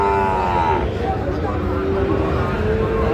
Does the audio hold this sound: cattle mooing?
yes